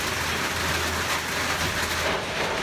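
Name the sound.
rain falling on a roof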